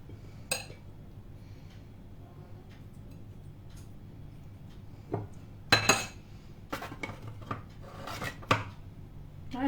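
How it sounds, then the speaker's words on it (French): A knife chops apricots on a cutting board in a series of sharp taps, sparse at first and then clustering into quick bursts, close up and fairly quiet, with no talking. "je vais couper finement mes abricots"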